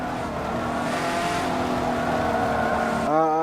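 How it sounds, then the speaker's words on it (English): A Porsche 918 engine drones steadily at high revs during a Forza 7 race through Prague, loud and sustained, with a quick shift near the end. "Let's do the last race of the Forzathon event, driving the Porsche 918."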